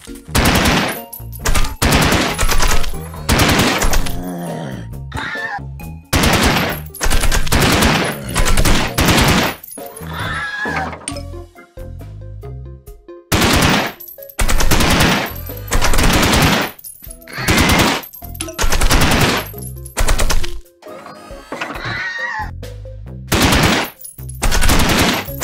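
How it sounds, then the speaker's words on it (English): The AK-47 Peashooter fires in a Plants vs Zombies game as loud, rapid bursts of machine-gun fire, with short pauses between volleys and a few brief gaps, continuing throughout. "now we have the AK-47 Peashooter. Let's check it out."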